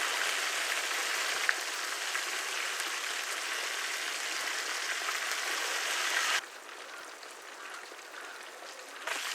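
Kerala river fish (pullan) fry in hot oil with curry leaves, a continuous close crackling sizzle that runs for about six seconds, then drops to a softer, quieter hiss, with no talking.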